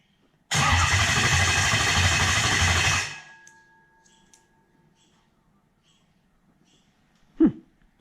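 A car engine cranks and catches in one loud, sustained burst of about two and a half seconds while the electronic control unit is being set up, then quickly dies away. A brief thump follows much later in near silence.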